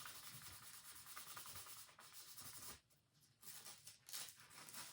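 Gold leaf on furniture being burnished with steady rubbing strokes, a dry, close, continuous scrubbing hiss that briefly dips and then resumes.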